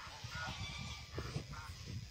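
Several geese honking near a lakeside dock, a run of low, nasal honks and squawks in uneven bursts, somewhat distant and faint against soft outdoor background noise.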